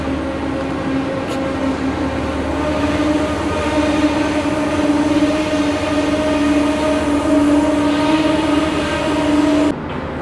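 A Chinese semi-bullet overnight train bound for Xi'an rumbles steadily at close range, with a loud, constant low drone and a sustained tonal hum that cuts off sharply near the end. No voices are heard.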